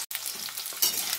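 Potatoes are added to hot oil in a kadai and fry with a sharp, close sizzle that hisses continuously and swells slightly partway through the short moment.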